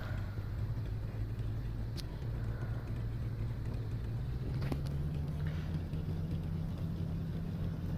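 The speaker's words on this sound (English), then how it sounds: "Increase the throttle a little bit so we can get going." Beechcraft Baron B58 twin piston engines in the Aerofly FS 2022 flight simulator, a steady droning hum that rises slightly in pitch as throttle is added for taxi, constant and moderately quiet.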